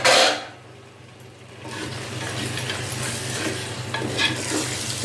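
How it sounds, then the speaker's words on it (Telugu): Mutton pieces dropped into a hot pan for a ridge gourd tomato curry, opening with a loud splash of sizzle, then a steady crackling fry with stirring scrapes continuing throughout. "దీంట్లో మటన్ వేయాలి."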